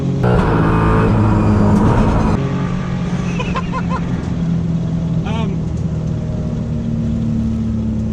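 A V8 Supercar and a Daihatsu Mira street car drag race over a quarter mile: loud, sustained engine roar with shifting revs dominates throughout, and voices can be heard over it.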